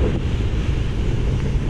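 Strong, steady wind buffets the microphone at a paragliding launch site, a loud continuous low roar with constant gusty rumble and no talking.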